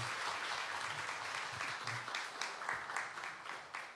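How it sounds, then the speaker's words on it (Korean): Audience applause at a game creation audition event in 2015: steady, fairly distant crowd clapping that holds for the whole stretch, with faint voices beneath. "박수로 우리 격려해 주시기 바랍니다"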